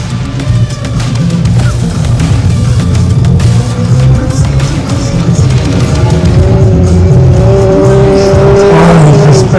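A rally car races hard on a folk race course, its engine roaring loud and close with rising revs, rough mechanical clatter and brief thumps through a sustained run, no voices.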